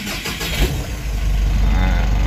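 A Mitsubishi L300 van engine, a newer and smoother version than the Euro 2 model, starts up and settles into a loud, steady low idle close by.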